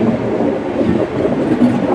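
Brief steady rumble of the Vasco da Gama weekly superfast express passing nearby, a continuous low rolling noise of rail cars without speech.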